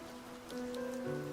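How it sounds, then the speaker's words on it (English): Steady heavy rain falls without pause as a low, even wash of noise under faint tonal hums. "And the rain, it has not faltered for a second since then."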